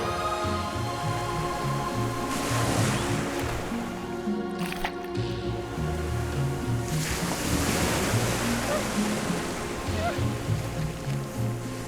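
North Sea surf and wind on the island of Sylt, with waves breaking in long washing surges and steady wind buffeting the microphone throughout, no voices.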